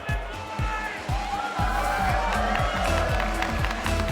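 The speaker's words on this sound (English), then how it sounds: "This crowd already getting loud." A loud arena crowd roars and cheers continuously at a Rocket League esports world championship match, with rhythmic thumping beats underneath and no pause in the noise.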